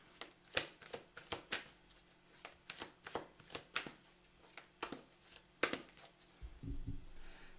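A deck of tarot cards is shuffled and cut up close in a quiet room, giving a run of crisp riffling flicks at an even rhythm, then a soft low rustle at the end.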